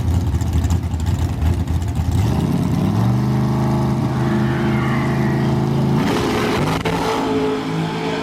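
A dragster and a Willys launch side by side at a bracket drag race, engines roaring loud and close, then pulling hard with rising pitch as they accelerate down the strip.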